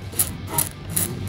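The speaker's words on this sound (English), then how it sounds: "I basically use this razor blade with a bit of tape on the side so I don't cut into the body itself" A razor blade scrapes excess superglue off a wooden guitar body in three short, rhythmic rasping strokes, close and fairly quiet.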